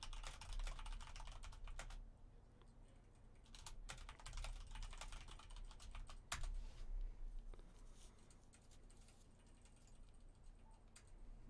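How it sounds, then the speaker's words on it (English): Quiet, rapid clicking of a computer keyboard being typed on continuously, in irregular bursts of keystrokes against a faint background hum. "I hear you typing away"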